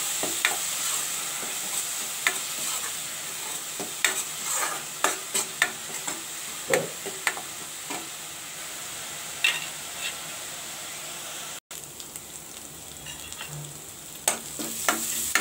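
Ground onion paste fries in a pan, a steady close sizzle broken by repeated scraping and clinking stirs from a utensil.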